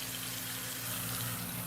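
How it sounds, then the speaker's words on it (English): Tap water running steadily into a sink while hands are washed, a continuous faint hiss and splash with a low hum beneath it and no talk. "Wash my hands first."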